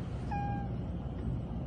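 A house cat gives a single clear, drawn-out meow indoors, close and alone over a low background hum.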